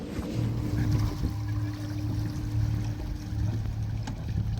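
A sailing boat leaves harbour at the start of a 125 nautical mile race from Guernsey to Cowes, with a low steady engine hum and soft water washing against the hull, fairly quiet throughout.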